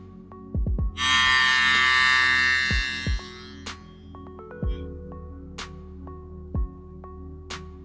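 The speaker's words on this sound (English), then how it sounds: "it's a really good trimmer" Stylecraft Flex electric hair trimmer buzzes in one loud, steady burst lasting about two seconds, then stops, followed by scattered clicks and handling taps nearby.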